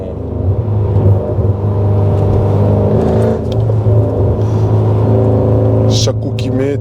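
A Mercedes E55 AMG V8 with a full straight-through exhaust accelerates hard to overtake, a loud, deep, continuous engine rumble that builds and holds from inside the car.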